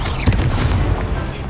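A Confringo spell explosion goes off in the video game Hogwarts Legacy, a loud, deep boom with a sharp burst early on, then a rumbling tail that fades over about a second.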